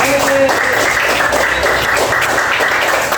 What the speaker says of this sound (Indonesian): Oke, kasih tepuk tangan buat Bapak.